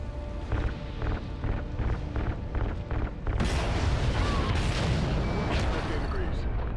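Gunfire in the video game Call of Duty: Ghosts, set in space: a steady run of rhythmic shots, roughly twice a second, that gives way to a dense, loud, continuous roar of fire and blasts, with voices shouting over it.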